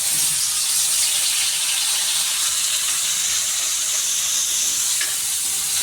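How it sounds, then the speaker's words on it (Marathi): Ginger garlic paste sizzles in a pan of hot oil and butter, a loud, steady, hissing fry heard up close that continues evenly from start to finish with no talking. "मी आता आलं लसूणची पेस्ट घालते तेलामध्ये."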